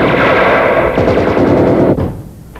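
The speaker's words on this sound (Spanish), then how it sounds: "Señor, nos disparan desde el techo de uno de los bloques, en la galería este." Loud, close machine gun fire from a prison rooftop in an action film, a dense continuous rattle of rapid shots that cuts off abruptly and leaves a fading echo, with no voices.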